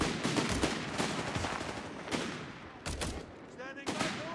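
Bursts of gunfire from Company of Heroes 3, with sharp repeated shots and rattling volleys on a battlefield, loud and close, mixed with short shouted voice lines between the shots.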